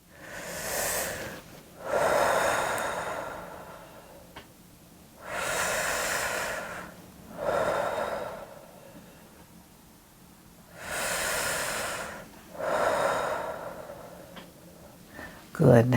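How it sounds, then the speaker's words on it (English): Three slow, deep breaths, each a long audible inhale followed by an airy exhale, close and evenly spaced across a quiet room. "Let's take 3 deep breaths together."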